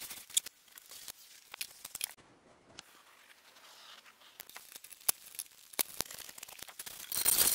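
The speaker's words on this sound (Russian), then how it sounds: "Вырезаю синтепон." Scissors snip through synthetic padding being cut for a salvaged chair's upholstery, a quiet series of sharp, irregular close-up cuts with brief gaps and faint rustling between them.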